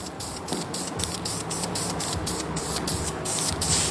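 An aerosol spray can hisses in a steady, close pulsing burst as a light first coat of paint goes onto a car valve cover, continuous throughout with no talking.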